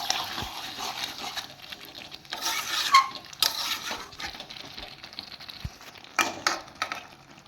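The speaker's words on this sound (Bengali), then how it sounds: "এইভাবেই আমি এখন 10-15 মিনিট ভালোভাবে মাংসটা কষিয়ে নেব" Chicken pieces for a bhuna being fried and stirred without water in a pan, an intermittent soft sizzle with bursts of louder frying, scraping and metallic knocks of a utensil against the pot.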